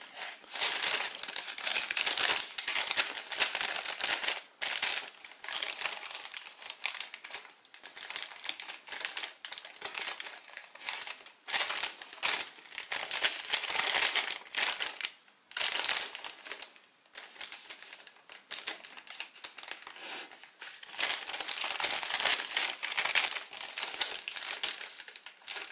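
Origami paper for a cactus model being folded and precreased, a long run of close crinkling, crackling and sharp creasing rustles in uneven bursts with brief pauses, no voices.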